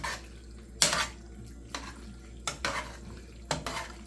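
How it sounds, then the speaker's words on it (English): Shrimp stirred through sauce in a pan, spoon scraping in a few distinct swishes and clinks against the metal, close up over a low steady background, with no talking. "So let's just spin it around a little bit. Get some of that sauce on the shrimp."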